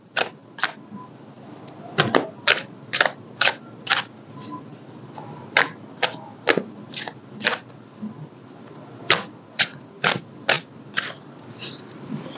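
Crisp, snappy bursts of tarot cards being shuffled, repeated riffles in an uneven rhythm, close and clear over a quiet room.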